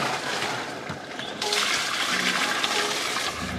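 Water pours and splashes as a narrowboat's toilet cassette is emptied into a disposal point, a gentle trickle that becomes a louder, steady gush partway through.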